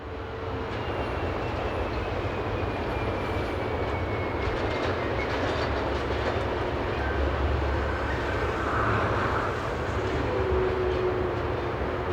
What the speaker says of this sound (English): One of two Shortlines Voslo Type G2000 diesels departs with the train for Blerick.